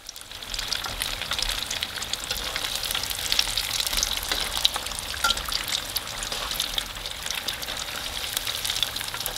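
Egg rolls fry in hot oil in a pan with a continuous, dense crackling sizzle, like steady rain, that stays close and even throughout without any talking.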